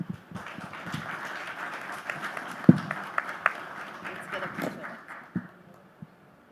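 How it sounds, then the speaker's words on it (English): Audience applause at a business conclave after an on-stage conversation, a moderate burst of clapping from a crowd with a voice heard over it, fading out after about five seconds. "A round of applause for his conversation with my colleague"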